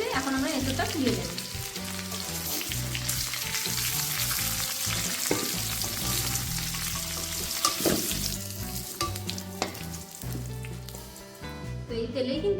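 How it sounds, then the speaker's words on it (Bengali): Chunks of young jackfruit deep-frying in oil for echor kalia make a loud, continuous sizzle with crackling pops and occasional stirring scrapes, lasting unbroken for over twelve seconds. "তো আমাদের এঁচড়টা কিন্তু ভাজা হয়ে এসেছে,"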